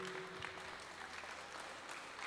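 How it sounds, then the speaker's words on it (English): Audience in a community hall applauding the city's mayor, a continuous patter of many clapping hands at moderate, slightly distant level, with faint voices underneath. "give me a round of applause"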